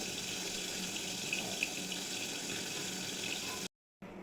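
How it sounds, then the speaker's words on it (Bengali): Hot water pours steadily onto grated coconut in a kitchen, a continuous hissing water stream running almost unbroken before a short silent gap near the end. "নারকেলের পোড়া এবার একটু গরম জল দিয়ে দেব"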